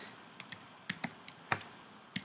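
Quiet clicking of a computer keyboard while someone types out an arithmetic sequence problem: a handful of light, irregular keystrokes, some in quick pairs, close and soft over faint room hiss.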